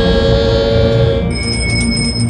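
Bright, sustained metallic ringing of temple bells inside the Vyas cellar beneath a mosque, loud and continuous with shimmering high overtones, joined partway through by a second higher ringing tone.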